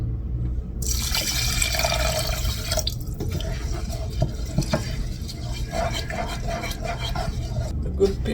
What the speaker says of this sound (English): then I'm gonna put in a cup and a half water